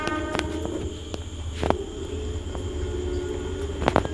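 A train passing in the horror video game Granny Chapter 2 rumbles steadily with a low mechanical drone and a few sharp clanks near the start and end, no speech.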